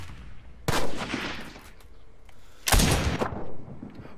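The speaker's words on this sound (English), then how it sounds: "he's shooting at you" Enemy gunfire in a video game, two sharp loud bursts of shots about two seconds apart, each trailing into a short rattling decay over a low background, with no talk.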